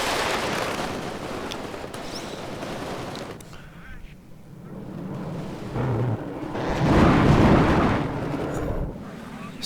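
An F-16 strafing run in WARNO: a roaring jet pass with rattling gunfire and rumbling explosions, loud and dense, dipping briefly before a heavy burst swells again.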